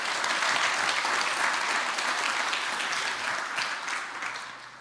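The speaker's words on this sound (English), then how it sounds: "I think a round of applause for Aaron" An audience at a WordCamp Europe 2023 conference talk applauds the speaker Aaron, steady, dense clapping filling the room for about five seconds and tapering slightly at the end.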